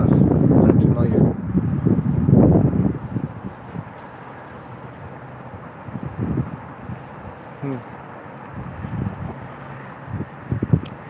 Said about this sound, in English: there's a little bit of wind blowing across